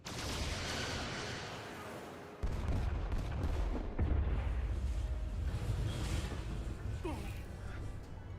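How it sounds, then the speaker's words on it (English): Torpedoes fire and explosions boom in a Star Trek video game, with a dense rumbling barrage, sudden sharp blasts and continuous heavy battle noise throughout, loud and close. "Firing torpedoes."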